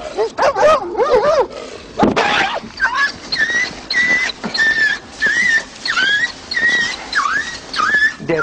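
A dog near a police officer during a call gives several sharp barks and yelps in the first seconds, followed by a run of high whistled or whining tones, with radio chatter mixed in.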